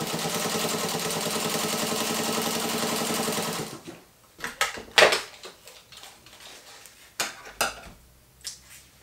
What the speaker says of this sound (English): sew down the fabric close to the edge of that fold